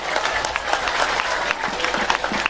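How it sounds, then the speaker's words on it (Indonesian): Audience applause at an Indonesian religious lecture, a dense, steady wash of many hands clapping for the whole short stretch without a break. "Tepuk tangan dulu dong."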